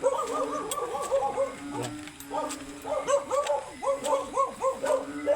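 A dog barks repeatedly in quick rhythmic bursts during a typhoon at night, fairly close and loud, with a brief pause midway before the barking resumes.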